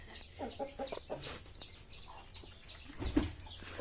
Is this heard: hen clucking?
yes